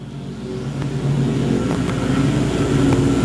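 Dirt track race cars at a USRA speedway roar steadily in a continuous, loud mid-pitched engine drone that swells slightly as they pass, with no talk over it.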